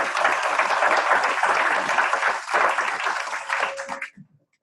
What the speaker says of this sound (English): Can we please give a round of applause for Craig Wright?